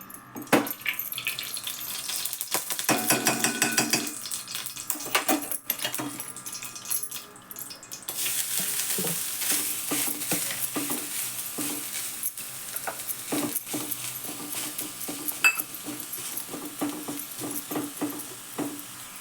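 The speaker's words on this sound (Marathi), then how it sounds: "तूप घालते पॅनमध्ये एक चमचाभर" Modak filling being stirred in a pan with a spoonful of ghee, a steady scraping and soft sizzle with repeated spoon knocks against the pan, close and moderately loud, with no speech.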